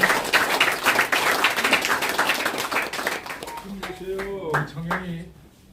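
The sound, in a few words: applause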